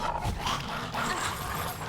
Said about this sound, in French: Ah, il est énervé le chien.